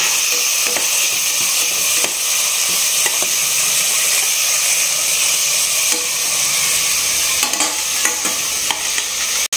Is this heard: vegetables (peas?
yes